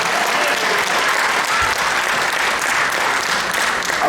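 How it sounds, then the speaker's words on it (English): Loud, sustained applause from the crowd at a Diwali festival mela, a thick continuous wash of clapping with no pauses. "So a round of applause for everybody here."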